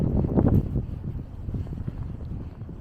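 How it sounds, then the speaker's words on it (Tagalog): Gusty wind buffets the microphone in low, rumbling bursts that rise and fall without pause, on a street in Toronto. "Pero ngayon, may hangin pa rin."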